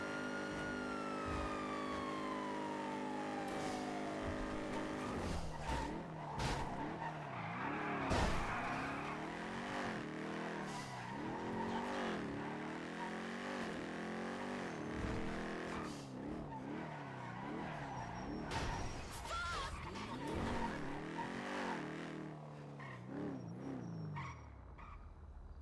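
A car drives hard in the video game NoPixel, built on GTA V, its engine rising and falling through repeated revs while tyres skid at intervals, with a siren-like wail early on, all steady and fairly close.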